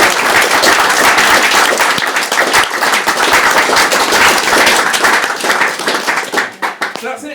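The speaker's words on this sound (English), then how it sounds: "please, another big round of applause for Winnie" An audience breaks into a loud, dense round of applause for a woman named Winnie at a talk, with many hands clapping together close up before it thins out at the end.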